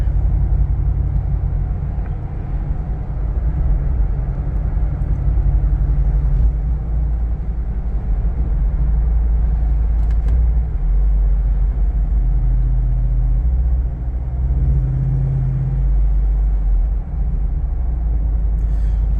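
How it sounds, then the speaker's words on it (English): Steady low rumble of Jeep Wrangler tires and road noise while driving, continuous and fairly loud inside the vehicle, with slight swells in the drone. "Tires aren't making much noise. I mean, so kind of have a nice noise to them, actually."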